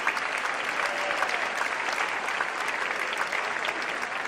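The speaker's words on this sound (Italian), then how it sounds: "Tutto per te questo applauso, Mariano" An audience applauds after a live music performance at Città della Scienza, continuous even clapping from a sizable crowd, steady and moderately loud throughout.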